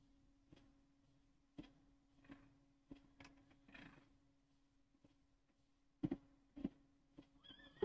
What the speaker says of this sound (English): There's the wild horses.